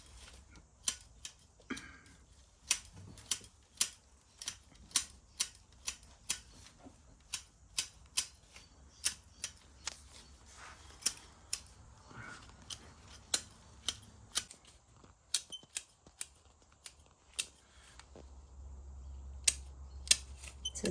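Scissors trimming an azalea bonsai, sharp snips repeating at an uneven pace close by and fairly quiet, with no talking over them.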